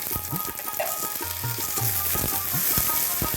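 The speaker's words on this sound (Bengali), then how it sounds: "বেগুনগুলো হালকা ভাজার পরে মটরশুঁটিটাও দিয়ে আমি ভেজে নিচ্ছি" Eggplant and green peas fry together in mustard oil, a dense close sizzle running throughout with several low scraping stirs of a spatula in the pan.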